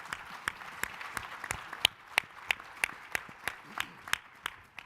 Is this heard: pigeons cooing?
no